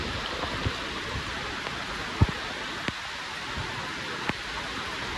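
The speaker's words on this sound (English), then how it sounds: "The rain is really coming down now." Heavy rain pours steadily on a hiking trail at Baileys Waterfall, a constant hiss of falling water with a few sharp nearby drips and taps standing out over the wash.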